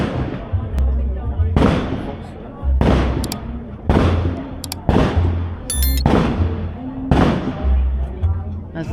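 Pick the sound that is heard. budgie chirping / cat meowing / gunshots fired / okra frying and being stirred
gunshots fired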